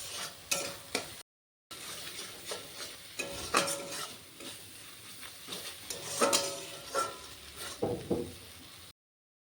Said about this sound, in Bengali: এখন মশলাটাকে আমি ভালো করে কষিয়ে নেব।